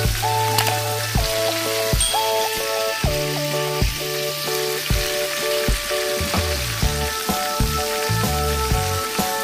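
Freshly hunted wild birds, doves among them, frying in a pan, a loud continuous sizzle with occasional stirring scrapes, close, with musical tones running underneath and no talking.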